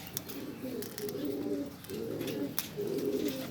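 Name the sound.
Sherazi pigeons cooing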